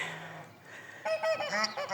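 Geese on water honk loudly in a burst of harsh, nasal calls close by, following a quieter stretch of low ambient noise.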